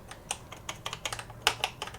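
Keys clack on a BBC Micro Model B keyboard, about a dozen separate close taps in an uneven, hesitant rhythm over a quiet background.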